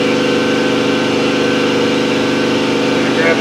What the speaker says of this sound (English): Figured I'd kick the compressor on